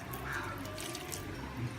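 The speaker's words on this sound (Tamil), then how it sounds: "அளவாக தண்ணி ஊற்றணும்." A little water is poured into a pot of Nagercoil-style aviyal vegetable curry made with yam and plantain, giving a soft, faint trickle and splash against steady background hiss.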